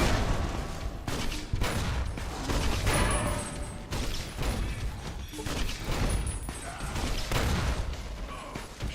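Repeated gunshots from Fallout: New Vegas crack in bursts over a dense game soundscape, loud and fairly close, with impacts and mechanical clatter between shots.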